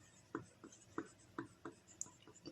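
Pen strokes on paper while drafting projections of a straight line in an engineering drawing: close, soft scratchy strokes in a steady rhythm, about one every half second, with no talk.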